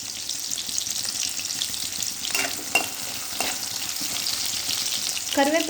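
Shallots and curry leaves frying in a pan, a continuous hiss and sizzle with a few scraping stirs and clinks over it, close up and fairly loud.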